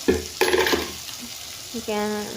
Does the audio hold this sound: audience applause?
no